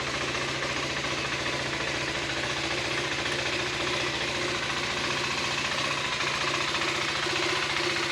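A 2025 KTM 390 SMC R motorcycle engine idles right after a cold start, a steady, close, continuous rumble with a fast even knocking pulse throughout and no talking.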